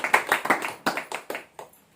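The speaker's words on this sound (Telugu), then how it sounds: "చప్పట్లు కొట్టండి" A congregation claps hands during a church sermon, a short run of about eight crisp claps in a quick, slightly uneven rhythm that slows and fades out, with no talking.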